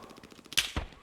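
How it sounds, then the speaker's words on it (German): Incoming gunfire at the player in the military shooter Squad: a couple of sharp close cracks and a low thump over a faint rapid patter, very brief and with no talking. "Auf mich wird geschossen."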